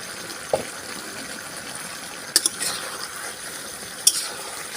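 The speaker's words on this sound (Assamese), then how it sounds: "মই ঢাকনাখন গুচাই এতিয়া মাংসখিনি আকৌ লৰাই দিম।" Chicken curry in a pot is stirred, giving a few sharp clinks and scrapes of a utensil against metal over a low background hiss, with sparse, irregular knocks close by.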